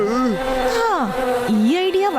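Cartoon honey bees buzz in an animated Motu Patlu episode, a loud, close, wavering drone with swooping pitch bends as the insects fly about, heard alone without talk.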